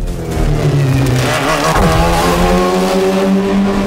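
A 1,400-horsepower all-wheel-drive race car in SHIFT 2: Unleashed revs loudly and steadily, its engine pitch rising and falling close up, with no talking.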